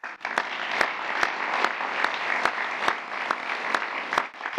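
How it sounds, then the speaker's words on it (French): Dense applause from a large audience fills the room, an even wash of clapping punctuated by sharp, regular louder claps from someone close by. "Applaudissements."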